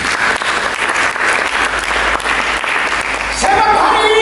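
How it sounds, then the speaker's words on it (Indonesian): A church congregation claps loudly and steadily in praise, a dense continuous roar of many hands with a faint voice emerging near the end. "Berikan tepuk tangan bagi Yesus."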